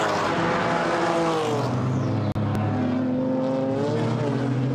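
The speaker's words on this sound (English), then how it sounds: "Through there goes the BMW of Max Kobold, and a challenge against him" GT4 race cars, a BMW and a Mercedes, race past at Brands Hatch with loud, close engine howls whose pitch shifts as they go by. A sharp thump cuts in midway.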